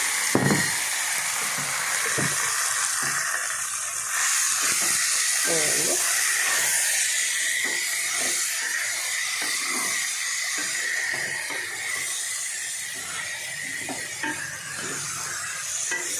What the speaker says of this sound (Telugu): ఇప్పుడు నేను పోపు పెట్టేస్తున్నాను చూడండి.